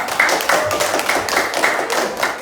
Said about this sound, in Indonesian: Mantap sekali, tepuk tangan dulu